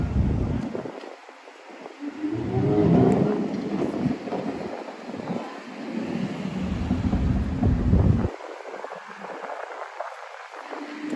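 Strong gusts of wind buffet a microphone outdoors on a Miami night, swelling into loud, rumbling bursts that rise and fall over several seconds before easing off.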